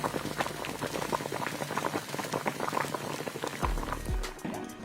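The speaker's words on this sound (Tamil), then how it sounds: "ஃபர்ஸ்ட்டில் ஒரு வடக்கல்ல தண்ணி ஊற்றி தக்காளி பழத்தை வேக வச்சுக்கலாம்" Tomatoes boiling in water in a pot, a continuous bubbling and gurgling close by, with a brief low thump near the end.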